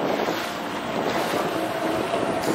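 A boat in a video game rushes through water with a loud, blustery roar of wind and spray, a steady wash of noise with no voices.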